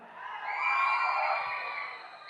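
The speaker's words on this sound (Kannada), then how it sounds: "ಈ ವಿಸಲ್ಲು ಚಪ್ಪಾಳೆ ಈ ಕೇಕೆ ಇಲ್ಲ ಅಂದರೆ ಯಾವ ಫಂಕ್ಷನ್ನೇ ಅಲ್ಲ" A crowd at a film meet-and-greet fan event cheers, whoops and whistles in a sustained, swelling roar that peaks mid-way and then eases slightly.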